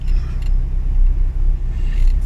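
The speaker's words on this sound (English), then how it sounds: "trying to turn this car around" A car in a tiny, narrow street being turned around in a tight three-point turn, its engine a low steady rumble close by with no one speaking.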